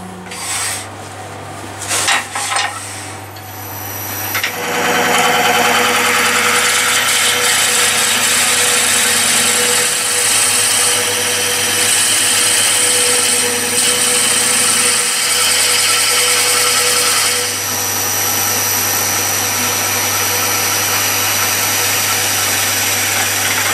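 A power drill bores into cherry wood for a bird feeder, starting with a few brief bursts before settling into a loud, sustained grinding whir that holds for over ten seconds and eases slightly near the end, with no talking.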